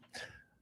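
A single short sneeze from a person, a sharp burst that trails off quickly, faint and close in a quiet room.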